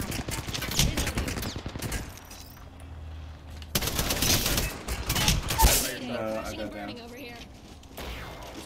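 Rapid bursts of automatic gunfire from an Apex Legends firefight crackle in loud volleys, broken by short pauses and mixed with game effects, while players talk over the shooting.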